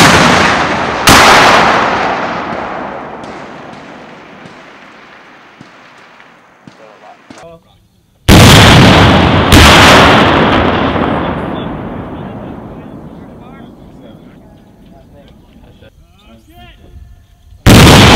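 AT4 rocket launcher fired live on a range: a huge, sharp blast with a long rolling decay, then a second heavy blast from the explosion that fades out slowly, with another sharp crack at the very end.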